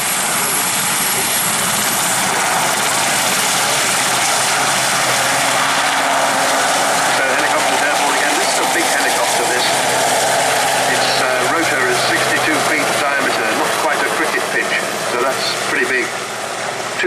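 RAF Sea King helicopter with two Rolls-Royce Gnome engines at an air display, a loud, steady roar of turbines and rotor throughout, dense and continuous with no break.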